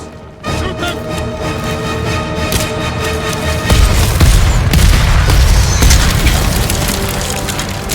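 Explosives go off during a battle in the video game Ghost of Tsushima, a loud continuous rumble of booms and crashes that swells into a heavier blast partway through, with no talk.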